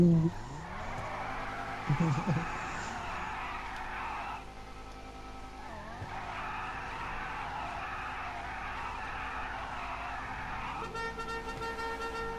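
A car horn honks in the video game GTA Online during a street race, mixed with engine drone and tire skids; a short burst of speech-like sound is heard early on.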